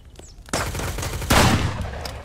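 Sniper rifle shots in Mist Survival: two loud, sharp blasts about a second apart, each followed by a reverberating tail.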